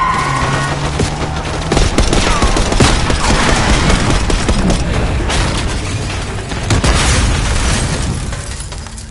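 Heavy gunfire and explosions from the video game Black Ops 6 fill a dense, loud battle mix of rapid automatic bursts and booming blasts, continuous throughout with no talk over it.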